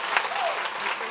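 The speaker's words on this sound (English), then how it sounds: "Please give a round of applause to the Writing Academy 1 graduating class." Awards ceremony audience applauding graduates, a dense, steady wash of clapping from a crowd, brief and continuous, with a faint voice beneath.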